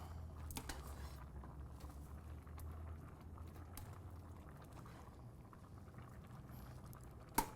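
Pasta boiling in a pot of water on a kitchen stove, a soft steady bubbling and rolling simmer throughout, fairly quiet, with a small clink near the end.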